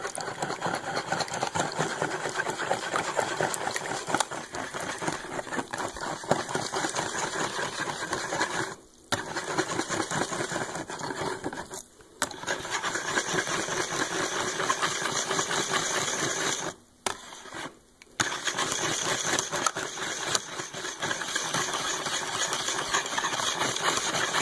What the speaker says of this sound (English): you want to whisk this really good